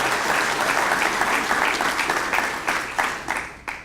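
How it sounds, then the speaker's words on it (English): Audience applause fills a school breakfast program for partners in excellence, steady dense clapping that gradually thins toward the end with a few louder individual claps standing out. "Can we have a round of applause for everyone,"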